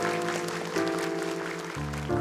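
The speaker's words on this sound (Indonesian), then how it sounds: "Tepuk tangan lebih meriah untuk Hasbi," Audience applause for young contestants on the Hafiz Indonesia 2019 Quran memorization TV competition, a steady wash of clapping over sustained musical tones that shift in pitch partway through.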